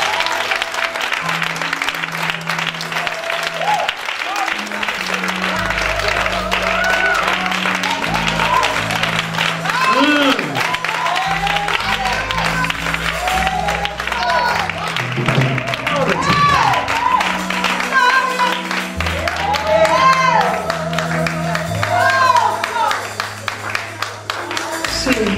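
A church congregation on its feet claps loudly and steadily while music plays underneath, and voices carry faintly through the crowd noise for the whole stretch.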